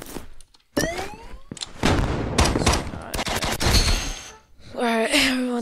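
Rapid minigun fire in the online shooter Poxel.io comes in dense, loud bursts with short gaps between them, mixed with other game effects and brief background sounds.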